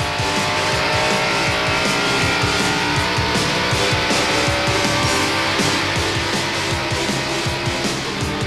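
NASCAR Winston Cup stock cars roar around North Carolina Motor Speedway in Rockingham, a continuous loud engine drone with repeated pulsing passes and a faint tire squeal, no voices.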